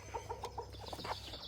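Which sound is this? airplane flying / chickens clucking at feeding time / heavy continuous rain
chickens clucking at feeding time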